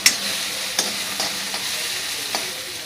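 Onions fry lightly in a pan, giving a continuous even sizzle close by, with a few soft scrapes and taps from stirring spread across the sound.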